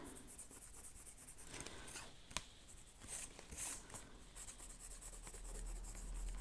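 Quiet scratchy strokes of a colouring pencil rubbing across paper, steady and close, with a few light taps along the way.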